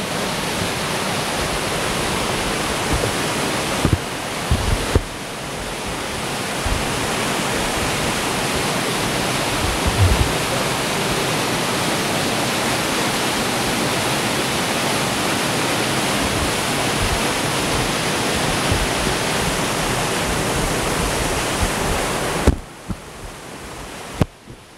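Kani waterfall, one of the Kawazu Seven Falls on a riverside trail, pours as a loud, continuous broadband rush of falling water, steady and close with a few brief bumps, no voices.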